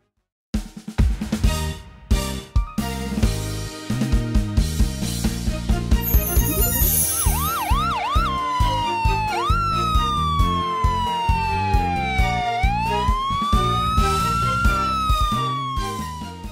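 A wailing emergency-vehicle siren rises and falls over an upbeat cartoon-style children's song with a steady beat, loud and continuous.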